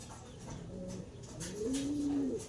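Racing pigeon cooing close by, a few soft low coos that swell into a louder rolling coo near the end, with faint background noise and no speech.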